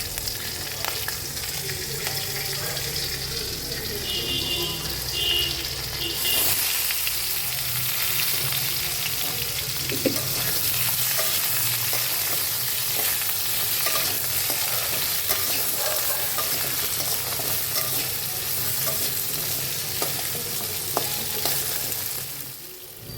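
Vegetables and dalia frying with spices in a pan, a dense continuous sizzle that holds steady throughout, with occasional faint stirring clicks, close and loud and with no talking.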